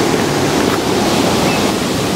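Loud, steady roar of Davis Falls waterfall, a dense unbroken rush of water heard from nearby, constant and without talk over it.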